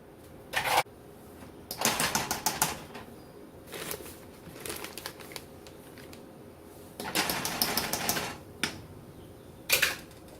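Flour whisked into heated orange juice sauce in a saucepan: quick, rattling bursts of metal whisk against the pan, near and fairly loud, coming in several separate spurts with short quiet gaps between.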